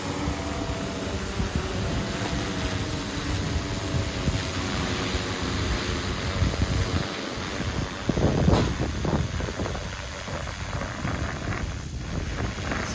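Wind buffets an outdoor microphone at a drone delivery test site, a constant heavy rumble and roar that runs throughout without any speech.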